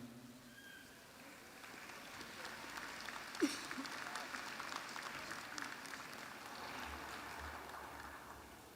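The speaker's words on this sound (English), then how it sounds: "One more round of applause for the 2024 graduates of the full-time one-year MBA program." An audience at the 2024 Cox School of Business graduate commencement applauds the graduating one-year MBA class: a soft, continuous patter of many hands clapping in a large hall, fairly distant, with one brief sharper sound partway through.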